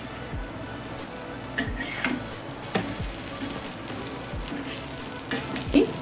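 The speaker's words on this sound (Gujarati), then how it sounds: "ઘી નાખી અને આપણે એને સરસ રીતે" Puran poli sweet flatbread cooking in ghee on a pan, a steady close sizzle with occasional soft scrapes and bumps of a utensil against the pan, and no talking.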